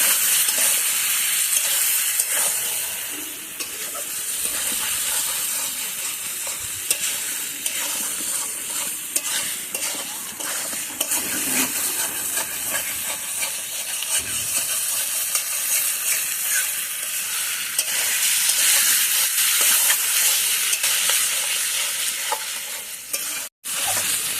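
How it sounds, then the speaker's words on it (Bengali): Chicken, potato and tomato sautéing in a pan for a dai chicken kosha, a steady loud sizzle running throughout with the scrape of stirring, ending in a brief cut near the finish; no voices. "এবার এটা খুব ভালো করে কষিয়ে নেব।"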